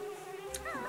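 A bee buzzes in the video game Banjo-Kazooie, a steady, thin droning hum that holds briefly with a slight wavering rise near the end, heard alone at low level.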